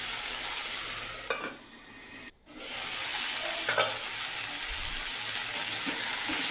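Prawns, okra and pumpkin curry half-frying in a pan, with a quiet continuous sizzle broken by a few scraping stirs and a brief near-silent gap.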